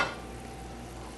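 A mixture stirred around in a hot pan gives a soft, steady sizzle with faint scraping, quiet and close, with no talking.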